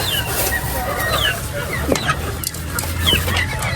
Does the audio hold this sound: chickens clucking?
yes